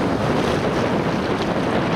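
Ocean surf at Pacific Beach, Washington, heard from more than ankle-deep water: a steady, loud rush of waves with heavy wind buffeting the microphone and no pauses.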